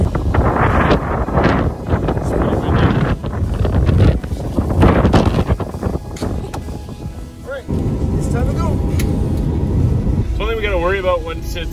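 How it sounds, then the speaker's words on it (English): Strong wind blows outdoors in snow, a loud, close roar with buffeting against the microphone, while people talk over it. "windy like this is all the blowing snow can really reduce kind of visibility"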